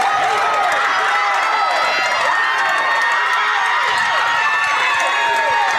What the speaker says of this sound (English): The crowd erupts more here at Paul Schnarry Field